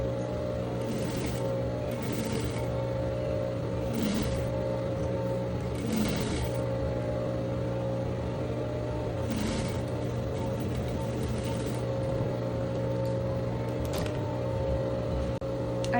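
A sewing machine stitches seams on a pattern for linen trousers, a steady close mechanical whir with a constant hum and short bursts of rapid needle clatter recurring every couple of seconds.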